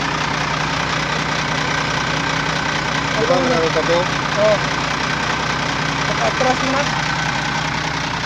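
Dump truck engine idling nearby, a loud continuous rumbling drone with steady vibration throughout, while people talk briefly over it.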